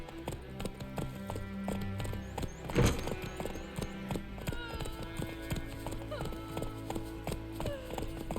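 Roach the horse galloping in The Witcher 3, rhythmic hoof clip-clops close by with a snort partway through, under game music and a brief spoken line.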